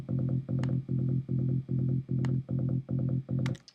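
Psytrance bass in a steady, rapid pulsing pattern, each note carrying a clicky punch at its start, with faint higher ticks between some hits and no voices.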